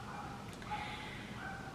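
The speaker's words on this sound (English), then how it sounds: "Sorry for the dogs in the background" Dogs bark and yip in the background indoors, a faint, brief burst of barking behind a quiet room.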